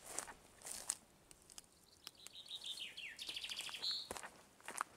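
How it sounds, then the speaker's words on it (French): Birds sing in a mountain forest in the Écrins massif: scattered bright chirps and short trilling phrases come from several directions, moderately near, over quiet footsteps on a trail. "Les jolis chants des oiseaux qui nous accompagnent."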